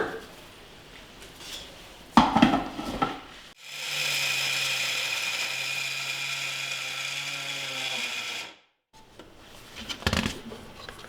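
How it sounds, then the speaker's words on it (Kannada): A kitchen mixer grinds a calcium-rich laddu mixture of jaggery powder and ghee, whirring steadily and loudly for about five seconds between quieter handling noises, with no talk. "ಆಮೇಲೆ ಇದಕ್ಕೆ ಒಂದು ಎರಡು ಟೇಬಲ್ ಸ್ಪೂನಷ್ಟು ತುಪ್ಪ ಹಾಕೊಳ್ಳೋಣ ಈಗ ಇದಿಷ್ಟನ್ನು ಗ್ರೈಂಡ್ ಮಾಡ್ಕೊಳ್ಳೋಣ"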